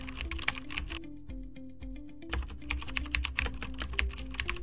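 A website name and URL are typed on a computer keyboard, a close run of quick, uneven key clicks with a short pause partway through, heard alone.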